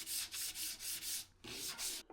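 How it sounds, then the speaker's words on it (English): Wooden furniture is hand sanded in quick back-and-forth strokes, a close, loud, rhythmic scratchy rasp repeating about four times a second, alone with no talk. "So I'm just hand sanding everything over."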